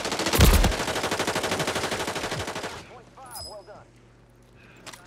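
Rapid automatic gunfire in a shooter video game, a long dense burst of rattling shots that cuts off abruptly, followed by quieter game sounds and a few faint later effects.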